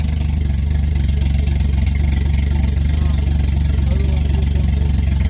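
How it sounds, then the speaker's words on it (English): A turbocharged 1JZ engine in a Lexus GS300 with an open downpipe idles loudly and steadily nearby at around 800 RPM, a constant low rumble with a faint whine above it, no change in pace. "Idling perfectly."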